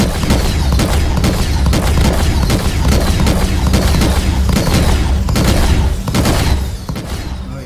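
A ship's turret exploding in Star Citizen's Squadron 42, a loud sustained barrage of repeated blasts and booms that rumble densely for several seconds, then start to trail off toward the end.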